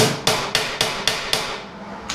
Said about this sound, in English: We'll keep my sheet metal hammer around.